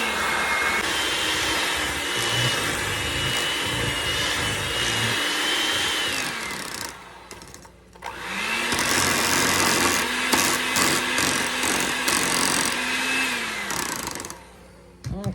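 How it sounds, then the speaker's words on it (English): Electric mixer whirring steadily as it beats banana split cake batter with almond flavoring until creamy, a loud continuous motor drone that briefly cuts out midway before starting up again, close up with no talking. "So now we got to beat this up and get it creamy."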